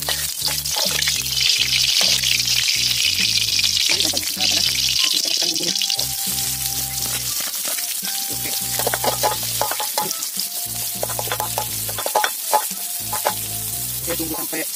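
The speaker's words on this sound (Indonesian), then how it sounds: "Langsung kita tumis, siapkan minyaknya dulu." Food sautéing in hot oil in a pan over an outdoor forest cooking setup, with loud, steady sizzling and frying crackle, stirring clatter, and bursts of music or voices running underneath.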